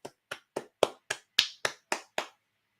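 A single person claps nine times in a quick, even rhythm, each clap crisp and close, with no other sound between them and nothing after the last one.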